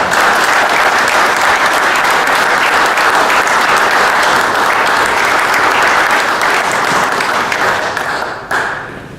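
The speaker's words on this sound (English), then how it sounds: "Please give a round of applause to Larry Pratt." Audience applause for speaker Larry Pratt at an evening talk, a dense, loud and steady wash of clapping that carries on for several seconds before it thins and tapers off at the end.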